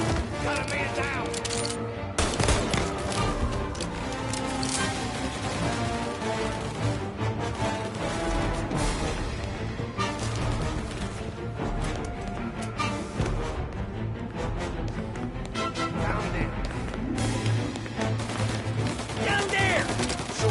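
Shootout gunfire in Mafia: Definitive Edition, dense and continuous for about twenty seconds, with sharp shots layered over a busy game soundscape and voices calling out underneath.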